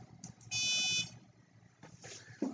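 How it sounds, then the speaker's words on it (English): A Circuit Playground board's buzzer gives a single steady electronic tone at 500 hertz, about half a second long, fairly faint over quiet room noise. "We get a tone at 500 hertz."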